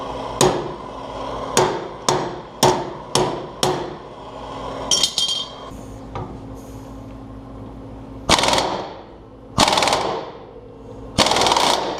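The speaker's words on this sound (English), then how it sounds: "Hammer." A hammer strikes metal on a beat-up, worn-out old trailer: six sharp, ringing blows land in a quick even rhythm, followed after a pause by a few louder, more spaced strikes, close and clear.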